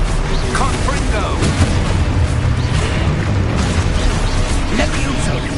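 Repeated booming Confringo blasts in Hogwarts Legacy, loud fiery explosions rolling together into a dense, unbroken rumble throughout.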